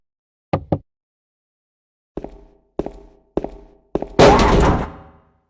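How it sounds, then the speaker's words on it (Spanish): In the Silent Hill 2 video game, a series of heavy thuds bangs on a door: two quick knocks, a pause, then four evenly spaced blows ending in a louder burst of noise, all in otherwise silent surroundings. "escucharás a una mujer gritar y golpear una puerta cuando vayas a salir de la habitación"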